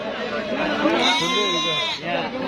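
A male goat bleats loudly nearby in a long wavering cry at an Eid livestock market, with a busy crowd chattering in the background.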